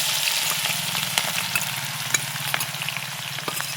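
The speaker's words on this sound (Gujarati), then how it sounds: "ચમ ચમ ચમ બોલવા માંડ્યું છે હો તેલ નાખી દીધું" Potatoes, cumin and ginger-garlic paste fry in hot oil for bhungla batata, a steady close crackling sizzle with scattered sharper pops and no one talking.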